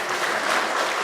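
A church congregation claps together in dense, loud applause that fills the room without a break.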